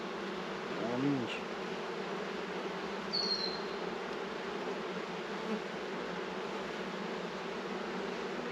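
Honeybees buzz around an opened, tightly packed hive box during an inspection. A soft, constant drone of many bees continues throughout, with a few louder passes from bees flying close by.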